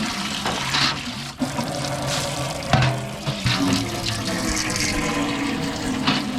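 Water runs steadily while a water barrel is rinsed out at a homestead without plumbing, a loud continuous splashing and gushing with occasional knocks against the barrel.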